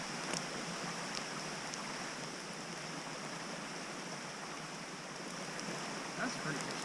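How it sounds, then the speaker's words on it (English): Water of a stream at a campsite rushes in a steady, even hiss, moderately close and unchanging, with no other sounds standing out. "You get to hear the water."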